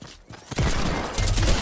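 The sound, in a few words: gunshots in the Fortnite video game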